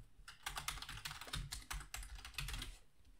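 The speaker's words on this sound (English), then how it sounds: "Type my email address." Quick, uneven bursts of keystrokes as an email address is typed on a computer keyboard, close and clear, with a low hum underneath and no talking.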